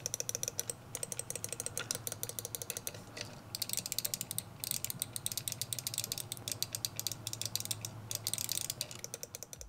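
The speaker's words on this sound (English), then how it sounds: "when using the 1943 controller, you do get more of a tactile feedback and also get some nice satisfying clicks" Buttons on a 1943 mini-arcade cabinet controller clicking rapidly and continuously, a dense stream of small, close, crisp clicks with no talking.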